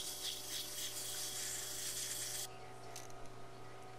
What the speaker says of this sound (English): I'm just going to give it a real quick blast of sandpaper.